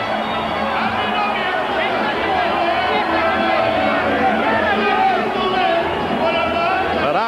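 Boxing fans of Fernando Vargas roar in a packed arena during the Trinidad–Vargas fight, a dense, sustained crowd din of cheering and babble that stays loud and steady throughout.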